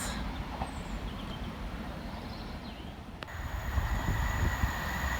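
Two class 185 trains passing at Church Fenton station, a steady rumbling roar of wheels on rail building louder near the end, with a high whine entering partway through.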